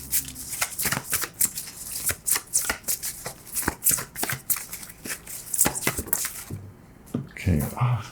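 A deck of Wild Unknown Animal Spirit tarot cards being shuffled by hand in a series of quick, close riffling and slapping bursts, with a short pause and a few softer handling sounds at the end.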